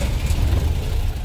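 MAN diesel tractor head engine idling after starting, a steady low rumble that sits loud and close for the whole stretch with no voices over it.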